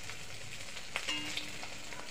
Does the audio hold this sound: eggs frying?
yes